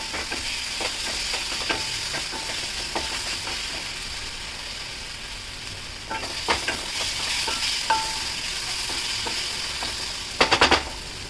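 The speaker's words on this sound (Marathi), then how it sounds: "अद्रक, लसूण, मिरची टाकून घ्यायची. ते चांगलं तेलात परतून घ्यायची." Ginger, garlic and chilli sauté in hot oil, giving a steady sizzle with scattered scraping clicks from a spatula and a brief clatter near the end, close by and without speech.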